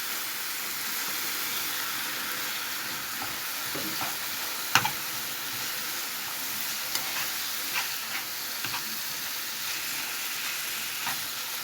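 Over a quarter kilo of minced meat fries in a pan with a steady, broad sizzle, broken by a few scraping knocks as it is broken apart and stirred, close by and without talk.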